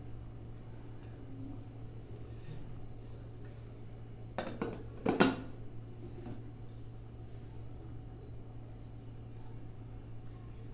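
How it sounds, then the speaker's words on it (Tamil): Over a steady low kitchen hum, a few sharp metallic clanks sound as the lid is closed on a stovetop pressure cooker of rice and lentils. The clanks are brief and close, with quiet background before and after. "இப்போ குக்கரோட மூடியை மூடிட்டு வெயிட் போட்டுடலாம்."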